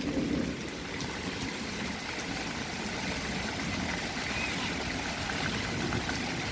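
Rain falls steadily outdoors in a constant soft patter and hiss, moderately close, with a faint low rumble underneath and no talking.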